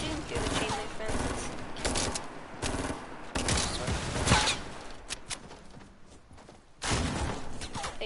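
Video-game gunfire from a first-person shooter: loud bursts of rapid shots and sustained automatic fire, with brief pauses between volleys and a person talking over it.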